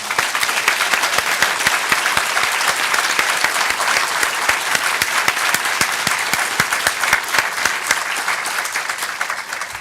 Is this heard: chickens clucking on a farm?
no